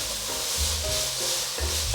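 Burdock and carrot stir-fried in a wok, close sizzling oil overlaid with rhythmic scraping and tossing strokes of the spatula, repeated several times, no talk.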